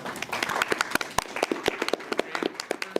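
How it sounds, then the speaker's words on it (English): Audience applause for both teams at a neurotech ethics bowl competition, a steady patter of clapping with sharp individual claps standing out, moderately close and filling the room. "Certainly give both teams a round of applause."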